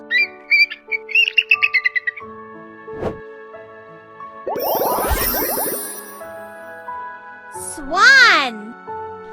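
A cartoon eagle's call from a baby bird-naming game: a harsh squawk and rapid warbling cries sound amid playful chimes and jingles, and a voice speaks between the sounds.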